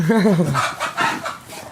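A chicken gives a quick warbling cluck up close, then a person starts talking over the farmyard.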